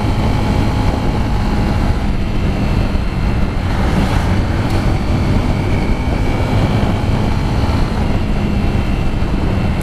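A low-displacement motorcycle accelerates through a curve on the BR-495 mountain highway near Teresópolis. Its engine drone is loud and continuous, mixed with wind roar and no pauses.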